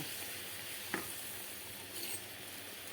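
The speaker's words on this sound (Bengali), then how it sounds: "লঙ্কার গুঁড়ো জিরের গুঁড়ো হলুদের গুঁড়ো আর চিকেন মশলাটা একসঙ্গে এরকম ঢেলে দেব ঢেলে দিয়ে একটু নাড়াচাড়া করে দেব" Chili, cumin and turmeric powders with chicken masala stirred in a hot pan for a coconut-milk fish curry, giving a soft steady sizzle and hiss with a couple of faint scraping stirs, fairly quiet and without voices.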